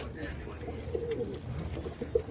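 Pigeons coo softly a few times at close range, low and throaty, over background clatter, with some indistinct speech around, while the birds are being bathed in medicated water.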